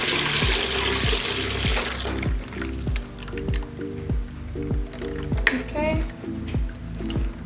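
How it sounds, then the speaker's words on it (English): Blended horchata pours through a strainer into a base, making a steady liquid splash with a rhythmic glugging drip. A person says a brief word over it. "we're going to use a strainer just to get all the leftover cinnamon out"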